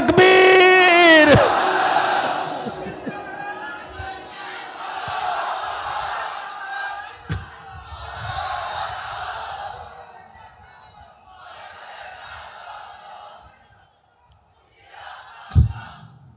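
A large crowd at a religious gathering in Chunati roars back in unison after a call for the takbir, a loud chanted burst that repeats in several waves, followed by a speaker's voice and a sharp thump near the end.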